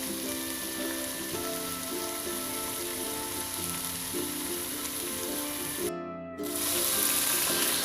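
A spiced seasoning paste for Indonesian fried-egg stew fries in a pan with a steady, even sizzle, broken briefly near the end before a brighter, louder hiss returns.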